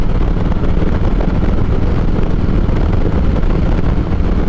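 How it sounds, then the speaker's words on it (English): Heavy wind roars and buffets around a motorcycle helmet on a test ride behind a Klockwerks windscreen, a loud, constant rushing noise with no talk. "I'm also feeling a bit of wind buffeting the top of my helmet"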